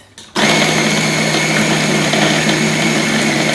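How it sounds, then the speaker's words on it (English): A food processor whirs loudly and continuously, chopping apples and raisins with cinnamon and nutmeg, starting abruptly after a brief quiet moment and running steadily up close with no talk. "I'm gonna put this in the food processor along with a teaspoon of cinnamon and a 1/4 teaspoon of nutmeg."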